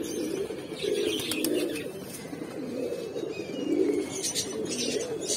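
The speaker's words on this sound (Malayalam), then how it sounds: "ധാരയും അപ്പുറത്തെ വീട്ടിലത്തെ പ്രാവ് പറന്നുകൊണ്ട് നിൽക്കുന്ന കേട്ടോ." Pigeons flying near a house in Kerala, their soft repeated cooing rising and falling close by over steady outdoor background noise, with faint chirps from other birds.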